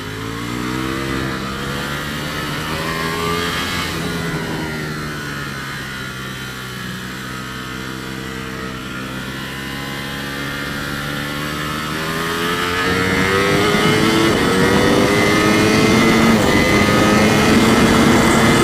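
A Ducati Panigale motorcycle on a race track gives a sustained engine drone that dips and swoops in pitch with throttle, then grows louder and rises toward the end.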